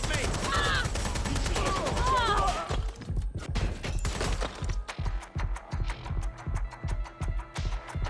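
Gunfire in the video game Watch Dogs: Legion, a steady run of rapid, evenly spaced shots lasting several seconds, fairly loud and close, with voices and game sounds over the start.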